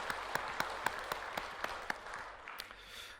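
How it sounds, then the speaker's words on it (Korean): A church congregation at a Korean Methodist service claps together, with crisp, fairly even claps in a dense round that thins out and fades within a few seconds. "우리 하나님께 영광의 박수 한번 돌리겠습니다."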